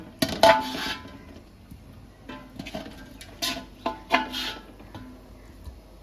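A metal lid comes off a cooking pot of chicken biryani with potatoes, giving several sharp clinks and clanks spaced irregularly across a few seconds in a quiet kitchen.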